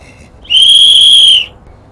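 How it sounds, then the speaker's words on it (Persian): A single sharp, high whistle blast sounds for about one second, loud and close, standing out against quiet surroundings with no talk. "صدای سوتو"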